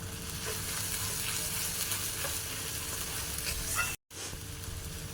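A mix of cumin, fennel, dried chili and radhuni frying in hot oil gives a soft, even sizzle with faint stirring taps, broken by a brief moment of silence near the end.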